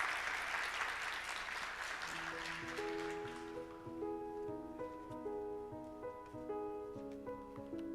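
A congregation at a Korean church's special dawn revival service gives a round of applause that fades within a few seconds, giving way to soft, sustained keyboard music.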